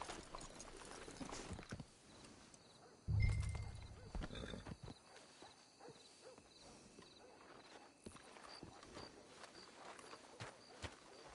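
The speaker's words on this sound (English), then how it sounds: "Let's hitch the horses up ahead." Horses in the video game Red Dead Redemption 2 clip-clop along at a walk, with a faint whinny and a louder thump near the start, over quiet ambient game sound.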